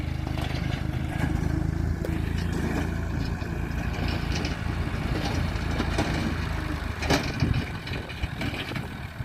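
A 2001 Massey Ferguson 240 tractor engine runs steadily nearby on a dry, dusty farm, a continuous low diesel rumble with a brief louder surge near the end and no talk.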